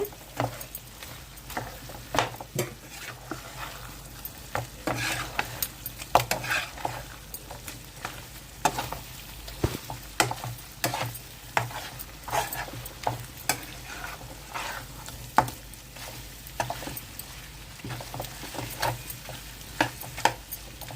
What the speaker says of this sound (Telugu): స్పీడ్లో పెట్టుకొని వేయించుకోవాలి